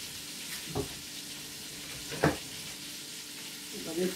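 Garlic and onions sauté in olive oil with a soft, continuous sizzle, punctuated by a few brief clinks and stirring scrapes in the pan.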